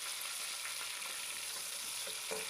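Small pieces of beef, some with bone, fry with onions in a pot for Afghan Kabuli pulao, producing a steady, even hiss of sizzling oil throughout, faint and continuous with slight crackles.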